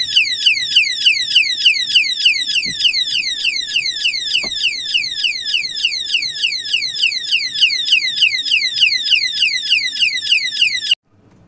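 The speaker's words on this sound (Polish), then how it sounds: "Jak alarm działa." A loud electronic alarm wails in a rapid, repeating rising sweep for about eleven seconds, then cuts off abruptly, with a couple of faint knocks underneath.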